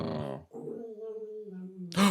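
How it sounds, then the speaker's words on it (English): A dog gives a low, sustained growl lasting over a second, preceded by a brief voiced grunt and ending in a sudden louder bark-like burst, close and indoors. "There's a dog barking outside."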